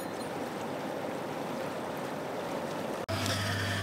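A Lay-Z-Spa Paris hot tub circulating water, heard as a steady rushing, bubbling wash. A brief cut near the end gives way to a low constant pump hum under the water noise.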